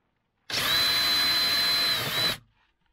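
A power tool, likely a drill, backs a screw out of a car's driver's door, a single steady high whine lasting about two seconds, close and loud, then stopping abruptly.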